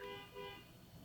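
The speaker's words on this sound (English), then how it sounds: "Sorry if you heard that honking." Faint car horn honks from a distance, two short toots in quick succession, with quiet background noise.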